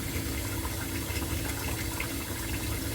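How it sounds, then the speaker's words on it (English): Water runs and splashes steadily while red lentils are rinsed for a Jamaican curry soup, a continuous close gushing without pauses. "And then we're going to rinse."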